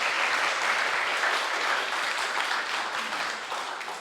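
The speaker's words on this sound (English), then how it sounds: "So big round of applause for the Workspace Wizards." An audience at a university student competition in Prague applauds a presenting team, with thick, even clapping that holds strong and gradually tapers near the end.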